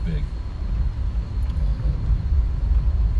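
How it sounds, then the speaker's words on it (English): A Jeep cruising along a sandy beach gives a steady low engine and tire rumble, continuous and fairly loud with wind noise, while a voice talks over it. "cruising down the beach in his Jeep"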